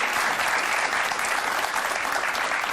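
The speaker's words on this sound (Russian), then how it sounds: "Давайте вас поддержим аплодисментами." Steady, dense audience applause fills the hall at a talk show featuring theatre director Farid Bikchantaev, loud and continuous with no voices over it.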